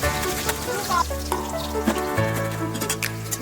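Mustard seeds sizzle and crackle in hot oil in a wok as a dense, continuous fry with small popping bursts and a steady low hum, heard close and without talk.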